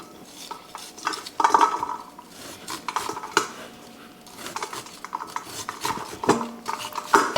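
Knife scraping and shaving kernels off ears of corn into a basket in a kitchen, a run of uneven scratchy strokes with occasional knocks and clatter of utensils, fairly close and without talk.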